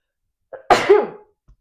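A single sharp sneeze bursts out close up after a brief intake of breath, followed by silence.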